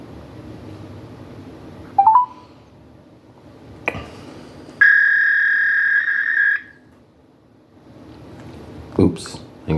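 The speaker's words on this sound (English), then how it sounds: "Oops, I think I dialed the fax." A telephone line sounds when a fax number is dialed by mistake: a few short beeps, then a loud steady electronic tone lasting almost two seconds, with quiet background noise around it.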